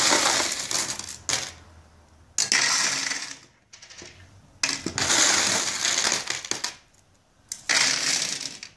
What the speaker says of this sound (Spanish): Y cargamos la máquina de monedas.